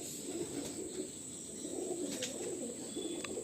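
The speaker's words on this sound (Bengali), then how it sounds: "তো আমি জাস্ট পায়রাটা দেখাচ্ছি।" Chotial pigeons in a rooftop loft at sunset coo softly and steadily in repeated low murmurs, with a faint steady whine in the background.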